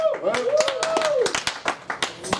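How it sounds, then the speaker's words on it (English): Audience clapping at a comedy show, a burst of sharp hand claps picking up and thinning into scattered individual claps, with a voice speaking over the start. "Clap your hands."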